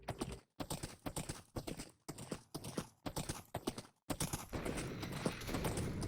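Horse hooves clip-clopping in Minecraft, a steady rapid run of hoofbeats in bursts broken by short silences, then a denser continuous patter at the end, with no talking over it.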